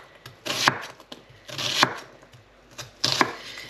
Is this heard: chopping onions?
yes